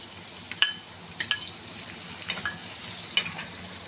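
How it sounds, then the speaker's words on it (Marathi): Coarsely crushed garlic and cumin fry in hot oil with a soft, continuous sizzle. A few sharp metallic clinks, like a spatula against the pan, break through now and then. "त्यानंतर मी इथे जे लसूण आपण ठेचून घेतलं होतं ते लसूण जे आहे ते टाकून देणार आहे।"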